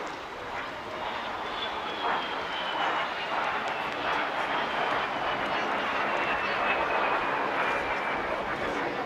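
A de Havilland Vampire jet flies past at a seaside airshow, a steady loud engine roar with a falling whine as it travels along the seafront, broad and sustained throughout.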